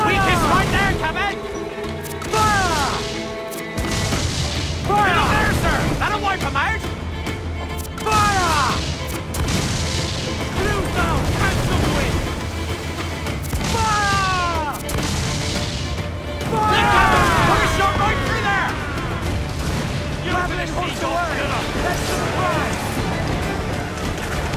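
Heavy sailing-ship cannon fire in the pirate game Assassin's Creed IV Black Flag, with repeated booming blasts and crashing impacts over a loud battle din and waves, while crew voices shout through the action.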